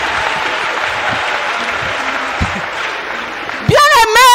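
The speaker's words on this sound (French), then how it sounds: "Acclamons pour Jésus-Christ." A church congregation claps in sustained, dense applause that fills the space, and a voice rises loudly over the clapping at the very end.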